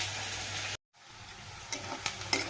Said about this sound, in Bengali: তো পেঁয়াজটা আমার লাল লাল করে ভাজা হয়ে গেছে।